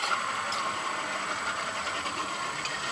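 The outboard motor on a Sea Pro center console boat idles steadily while warming up, giving a continuous, even engine hum and hiss that holds at a constant level throughout, with no voices.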